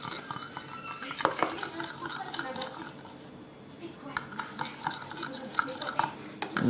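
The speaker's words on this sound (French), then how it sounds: "Ok, je vais touiller maintenant." A fork stirs glue-stick slime in a container, giving soft, continuous scraping and occasional light clinks of metal against the bowl, moderately close and steady throughout.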